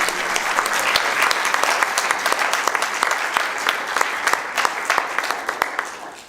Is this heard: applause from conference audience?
yes